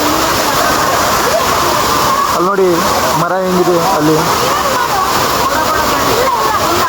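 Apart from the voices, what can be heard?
Amboli waterfall water rushing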